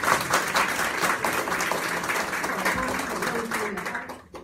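An audience claps in encouragement at a community gathering in Changhua, dense sustained applause throughout that fades away in the last half second, with some voices mixed in.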